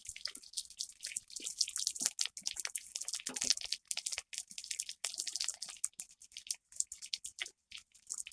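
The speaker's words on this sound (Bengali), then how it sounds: "আলুটা হালকা একটু লাল লাল করে ভেজে নেব।" Potatoes frying lightly in a pan for an aloo palak dish, a faint, crackling sizzle with irregular pops and spatters, no voices.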